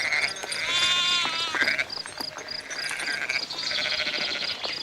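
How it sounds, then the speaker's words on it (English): Sheep bleat in a wavering, nasal chorus, with several overlapping animals calling loudly and steadily, one bleat rising and falling near the start and more joining toward the end. "Sheep, goats"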